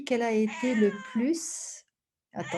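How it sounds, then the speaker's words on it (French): A cat meows in drawn-out, wavering calls several times in close succession, with a short pause before one more cry; someone speaks in French across the same moments. "C'est un chat qui a de la personnalité."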